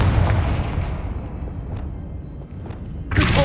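A Confringo spell blast in Hogwarts Legacy booming out, a heavy rumbling explosion that decays over a few seconds, followed by a sharp crackling burst at the end, loud and close with no talk.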